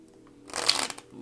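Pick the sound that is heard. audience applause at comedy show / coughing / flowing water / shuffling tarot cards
shuffling tarot cards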